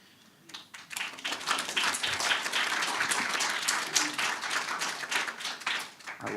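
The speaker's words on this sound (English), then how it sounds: "I will politely ask the gallery to refrain from clapping where possible." Applause from the public gallery at a Randwick City Council extraordinary meeting, a dense burst of many hands clapping that rises quickly, holds for several seconds, then tapers off.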